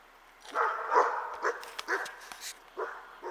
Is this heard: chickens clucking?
no